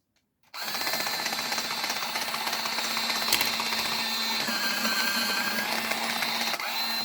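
An automatic pencil sharpener whirs on abruptly after a moment of silence, then runs with a steady high-pitched motor drone and grinding that shifts slightly in pitch before cutting off near the end; no talk.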